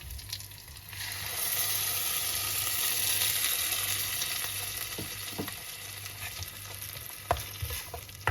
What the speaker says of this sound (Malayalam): അതിലേക്ക് നമ്മുടെ അരച്ചു വച്ചിരിക്കുന്ന തേങ്ങ ഒഴിച്ചു കൊടുക്കുക.